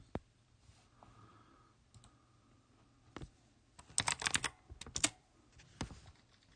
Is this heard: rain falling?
no